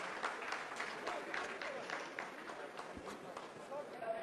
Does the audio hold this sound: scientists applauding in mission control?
yes